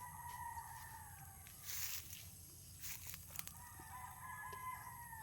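A rooster crows at a distance on a dragon fruit farm, a drawn-out call over quiet outdoor background with faint rustling and scattered clicks.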